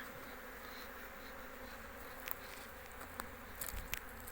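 Honeybees hum steadily at a beehive being prepared for autumn and winter, a dense close buzz with a few faint clicks and knocks from handling the hive.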